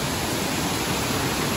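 A waterfall at Seulawah Dara in Aceh Besar gives a steady, dense roar of falling water, loud and unbroken throughout with no voices.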